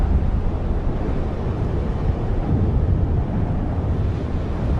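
Steady wind blowing over Sulawesi makes a continuous low rumbling roar, broad and unbroken throughout without any voices.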